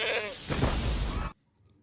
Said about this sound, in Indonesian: Kambing pun menjadi korban.